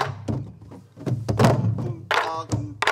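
A soribuk, the Korean barrel drum used to accompany pansori, beats out the jungjungmori rhythmic cycle with deep thuds and sharp rim clicks in a steady pattern, loud and close, with voices heard along with the strokes.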